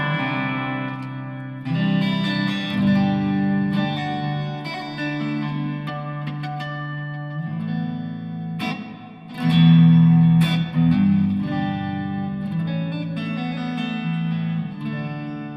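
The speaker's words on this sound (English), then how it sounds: "That's a nice clean, lots of reverb on that one and some delay." Electric guitar chords ring out with a clean tone through a Fender Mustang amp, washed in heavy reverb and trailing delay echoes, steady and fairly loud throughout.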